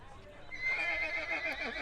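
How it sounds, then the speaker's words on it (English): Horse whinnying in distress, a sustained shrill neigh with wavering pitch, fairly close and clear over a faint low background. "the pair can hear the sound of a horse whinnying in distress"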